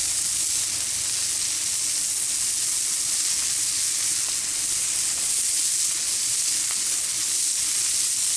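Onions sizzle on a Blackstone griddle, a steady, bright frying hiss that stays loud and even throughout, with no talking.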